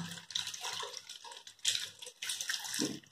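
Tap water runs and splashes over hands being washed, a steady hissing flow that rises and dips in short surges, fairly soft and close.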